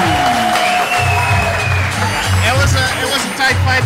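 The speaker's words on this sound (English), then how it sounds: "a big round of applause and a thank you for Aryan Fitness" Applause and crowd noise after a split-decision result at an Honor Fight League bout, with a clear voice talking over the clapping throughout.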